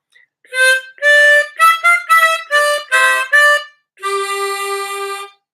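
A harmonica plays a short practice phrase: seven or eight distinct reedy notes in quick succession, each a separate breath, ending on one longer held note; close and clear with no talking.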